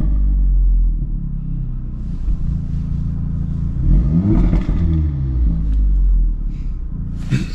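Heard from inside a Stage 3 VW Polo GTI with a Milltek exhaust line, a loud, deep engine rumble builds into rising revs with throaty swells before settling.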